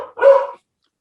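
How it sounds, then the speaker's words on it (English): A single dog barks once, close and loud, a short sharp bark followed by silence. "Oh, Dog agrees."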